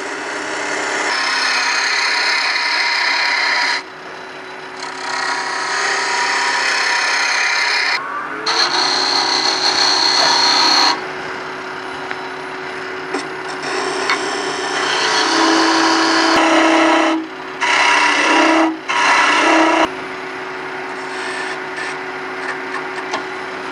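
A chunk of log spinning on a wood lathe at around 2,000 RPM as a tool turns it down into a tree-top ornament, a loud continuous scraping hiss that breaks off and restarts several times over a steady motor hum.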